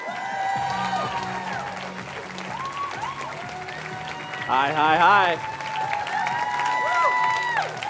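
An audience applauds and cheers for a speaker taking the stage at a live event called Heart of Gold. The crowd noise stays steady under a voice and tonal sounds, with a brief louder swell midway.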